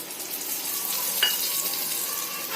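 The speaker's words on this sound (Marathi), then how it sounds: "त्यावर तेल सोडून घ्यायचं आहे." Oil hisses gently around a matar paneer paratha frying on a hot pan, a soft, even sizzle with one brief clink near the middle, close but low in level, no voices.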